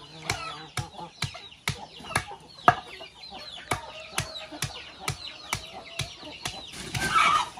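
Hens cluck repeatedly around a farmyard on a simple rural smallholding, including a mother hen with five chicks, with sharp pecking or tapping knocks scattered throughout and a brief louder flurry of squawking near the end.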